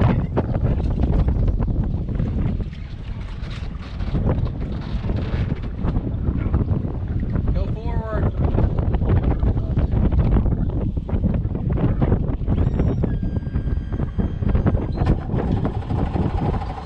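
Boat being backed down a launch ramp on a windy day, with steady wind buffeting and motor rumble throughout and a faint whine partway through; no speech.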